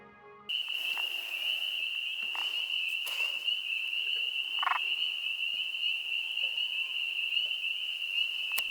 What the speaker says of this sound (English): this pickerel frog seemed to be giving off a distress call every time I got close to film him